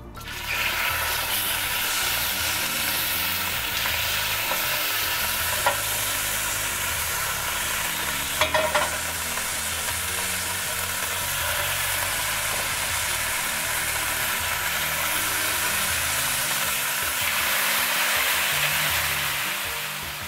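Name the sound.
rabbit pieces browning in a hot pan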